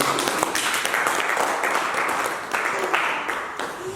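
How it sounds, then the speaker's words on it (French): A church congregation applauds in a dense, steady burst of clapping that fills the room, loud and sustained before easing slightly. "Acclame Jésus, acclame les Seigneurs"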